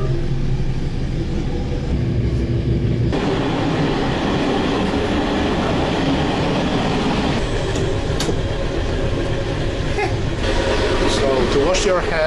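A steady rumbling train ride in Portugal heard from inside the carriage, with continuous rolling noise, occasional clicks and squeals, and voices talking over it.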